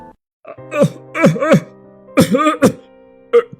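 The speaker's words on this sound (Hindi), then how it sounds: "खांसी रुक नहीं रही।" Several strained, voiced coughs and throat-clearing bursts in irregular clusters, close up with brief pauses between.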